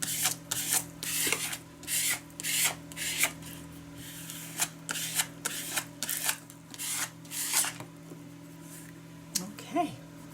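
Wax paper rubbed across a page of an altered book journal, in repeated short scratchy strokes with brief pauses, close and quiet, while a person talks.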